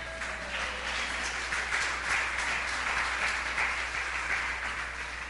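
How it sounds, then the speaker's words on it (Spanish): A church congregation applauds in honour of the Bible during a Spanish-language service, a steady, dense wash of clapping that holds at an even level for the whole stretch with no voices over it. "¿Cuánto le damos un aplauso a la Biblia?"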